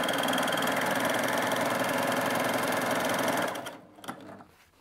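A Baby Lock Primo coverstitch sewing machine runs at a fast, steady mechanical whir and chatter, close and loud, then stops abruptly, leaving a few faint clicks.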